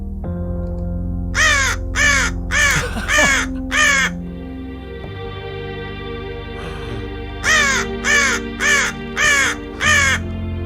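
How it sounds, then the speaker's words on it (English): A raven from a sample library caws in two bursts of five harsh croaks each, loud and close, over a steady low drone. "So I do have a raven."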